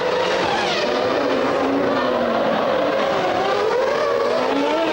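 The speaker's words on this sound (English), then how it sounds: "Martin Brundle, meanwhile, in the McLaren, closing on Alesi all the time" Formula 1 race cars at the 1994 Monaco Grand Prix, including a McLaren, scream past at high revs, a loud continuous engine wail with rising and falling pitch as cars pass close by.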